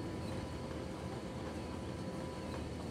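A train rolls past in the Cities: Skylines game, a dense steady rumble and rattle of rail cars that stays even and fairly close for the whole few seconds.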